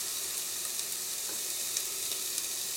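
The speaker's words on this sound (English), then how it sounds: "So this is just gonna saute up" Chicken sausage and peppers sauté in a pan with an even, hissing sizzle at moderate volume. A few faint crackles rise above the hiss, with no talking.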